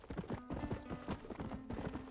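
Horse hooves clip-clop steadily at a trot in the video game Red Dead Redemption on Xbox 360, a dense rhythmic pounding over a soft game background with no talk.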